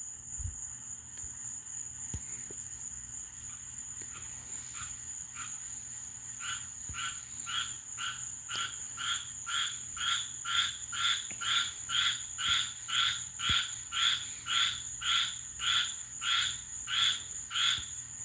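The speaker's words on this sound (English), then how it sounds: "You wouldn't think these tree frogs are little too." Tree frogs croak in a steady rhythmic chorus of rapid, evenly spaced calls that grow louder and more regular, set against a constant high insect drone and faint ambient night noise.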